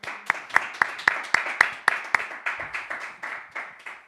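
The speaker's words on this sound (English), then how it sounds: "please welcome our guests with a hearty applause" Audience applause welcoming guests to a literary reading with author Zaza Burchuladze: a steady run of close, sharp claps in an even rhythm that gradually thins and softens, with no talking over it.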